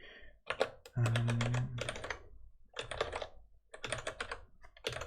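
Fast typing on a computer keyboard during live Rust coding, with dense irregular key clicks and clacks in quick bursts separated by brief pauses, close and clear.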